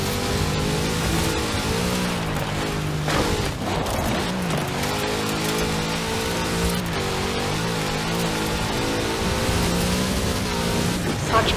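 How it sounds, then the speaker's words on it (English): A big Chevrolet car engine in the racing game Forza Horizon 4 revs and drones continuously, its pitch rising and falling as the car accelerates and eases off, loud and close. "Such power in the big Chevrolet engine."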